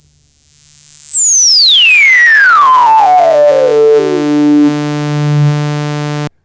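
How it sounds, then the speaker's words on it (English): A self-oscillating resonant Steiner high-pass filter on an Arturia MatrixBrute synthesizer sings a loud, pure whistling tone that sweeps steadily downward from very high to low pitch, then settles into a droning low buzz before cutting off abruptly. "And of course we have self-oscillation in a resonant high-pass filter."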